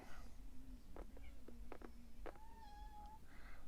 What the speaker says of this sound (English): I hear my cat meowing behind me